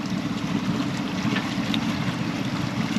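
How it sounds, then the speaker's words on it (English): A sailboat motors out of the Bimini channel near high tide on a windy morning, with a steady low engine drone mixed with wind and water noise, continuous and close. "I'm just motoring my way out the channel"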